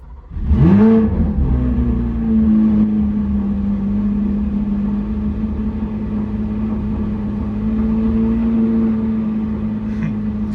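A Corvette C8 Z06 flat-plane V8 with an AWE exhaust fires up for the first time, a sharp loud starter-assisted bark that rises in pitch and then settles into a steady, throbbing idle that continues to the end.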